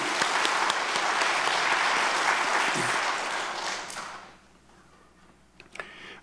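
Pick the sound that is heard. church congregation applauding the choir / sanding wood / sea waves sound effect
church congregation applauding the choir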